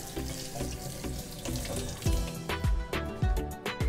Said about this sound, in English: rinse it under cold water